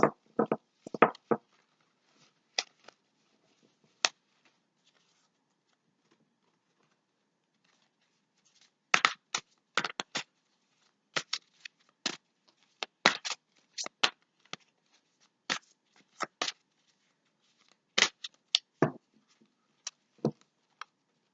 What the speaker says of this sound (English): So I'm going to pull out a couple of angel cards for you now